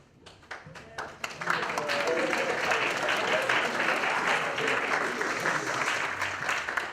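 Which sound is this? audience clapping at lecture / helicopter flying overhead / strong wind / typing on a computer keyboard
audience clapping at lecture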